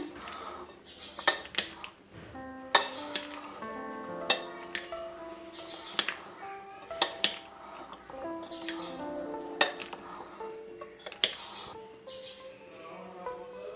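Chana chaat with chopped onions and macaroni being mixed with a spoon in a bowl: repeated sharp metallic clinks and scrapes in an uneven rhythm, close and fairly clear, continuing steadily throughout.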